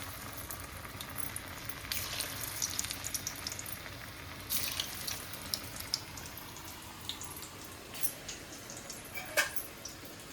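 Cut taro leaf alu vadi pieces frying in hot oil, a steady low bubbling sizzle with brief brighter crackles and spatters throughout, moderately quiet and with no voices.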